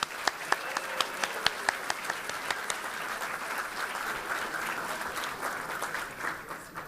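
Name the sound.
audience applause at gala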